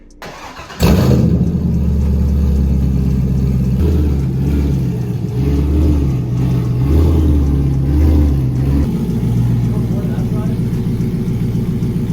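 A Chevrolet C5 Corvette's engine turns over and settles into a loud, close, steady rumble, with small swells in revs as the car creeps onto a stack of wood.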